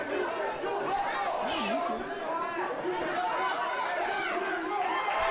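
A crowd at a small, packed indie wrestling venue chatters and cheers for the referee, a dense continuous roar of many voices with shouts rising and falling throughout.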